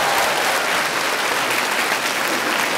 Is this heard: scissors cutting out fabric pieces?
no